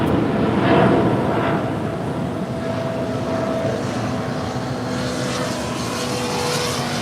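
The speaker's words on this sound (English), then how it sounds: "here comes the Qantas Dreamliner coming in from Melbourne" A Qantas Dreamliner arriving at LAX from Melbourne gives off a loud, continuous engine roar with a faint whining tone as it approaches and passes.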